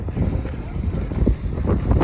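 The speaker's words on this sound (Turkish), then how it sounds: "rüzgarlı yağmur olduğu için" Gusty wind buffets the microphone at an outdoor car market in Antalya on a windy, rainy day, a loud steady low rumble with soft rushing and no voices.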